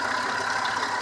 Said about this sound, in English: if I reach up here and rev that engine